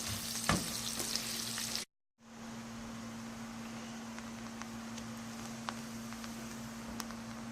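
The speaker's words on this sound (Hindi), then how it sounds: "बटर में मैं प्याज डाल रही हूँ, इसको मैं ब्राउन करूँगी, लाइट ब्राउन करना है मैंने।" Chopped onions sizzling as they fry in melted butter in a pan, a steady moderate hiss with a brief cut near two seconds, then continuing evenly alone without talk.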